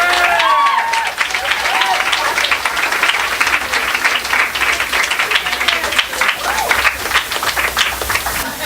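Steady, moderately loud applause from a crowd, continuous throughout with faint voices mixed in.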